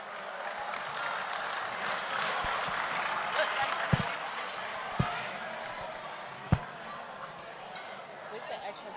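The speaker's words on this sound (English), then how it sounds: "Can you please give him a round of applause as he comes up?" Steady audience applause fills a hall at an awards evening, a dense even wash of clapping with a few sharp louder bangs standing out, held at a moderate distance throughout.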